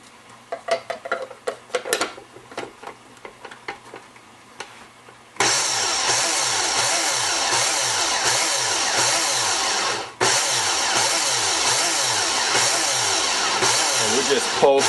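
A food processor pulses daikon radish in a home kitchen, a loud steady whirring motor with rhythmic chopping that runs for several seconds, stops briefly and starts again, following a stretch of quieter clatter.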